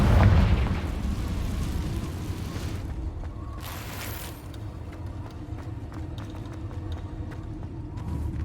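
Confringo fire-blast spell bursting in Hogwarts Legacy, a loud booming blast at the start that fades into crackling rumble, with a whooshing flare and scattered clicks afterward.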